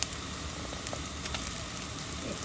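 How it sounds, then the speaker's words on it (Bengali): Fish frying in oil with onion for a prawn curry with mixed vegetables, a soft, steady sizzle with faint crackles, heard close and quiet, without any voices. "একটু তেলের সাথে ভাজা ভাজা হোক।"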